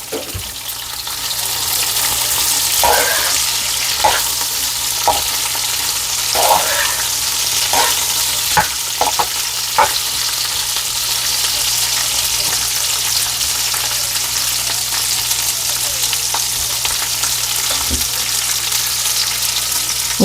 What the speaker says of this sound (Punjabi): ਇਹਨਾਂ ਨੂੰ ਅਸੀਂ ਕਰ ਲਾਂਗੇ ਫਰਾਈ